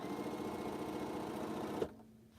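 A sewing machine stitches through quilt blocks for H-pattern blocks in a steady, fast mechanical whir that runs close and even, then stops abruptly near the end, leaving a faint hum.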